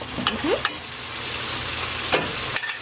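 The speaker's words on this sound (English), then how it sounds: "So the onion are soft. So I'm gonna add rest of the ginger garlic paste." Ginger garlic paste fries with softened onions for mutton biryani, making a loud, dense sizzle close by. Spoon scrapes and clinks break in near the start and end, and there is no speech.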